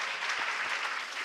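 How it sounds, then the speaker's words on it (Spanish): An audience applauding at a talk on psychophonies, dense clapping from a crowd, steady and fairly close, with no voices over it. "Un fuerte aplauso para Pedro Amorós."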